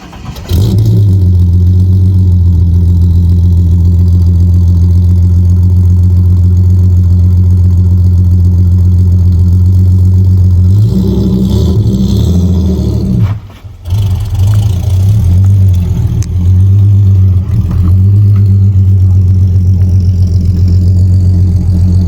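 A Holden VS car engine runs loud and steady close by, then its note shifts and revs as the car pulls out past a parked Camry, with a brief dip before the engine settles again.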